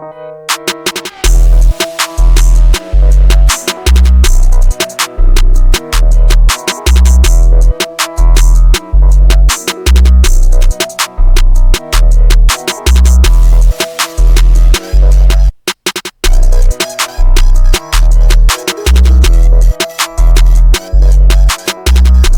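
A hip hop beat plays on its own, with booming kicks and snappy drums in a steady loop and a melodic layer on top, briefly dropping out once midway.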